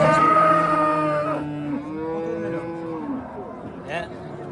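A cow at a busy livestock market in Kattakurgan, Samarkand region, lets out one long, loud moo that fades over a few seconds, with the crowd murmuring behind it.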